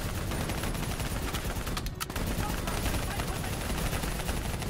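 Sustained gunfire from a Black Ops III beach assault against an APC, a dense wall of shots running almost without a break and loud throughout, with a brief dip near the middle.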